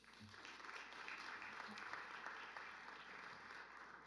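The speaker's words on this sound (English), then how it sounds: "Round of applause for Coach Smith." Steady applause fills a school board meeting room as attendees clap for a girls' basketball coach, a faint, even patter of many hands heard from a distance without a break.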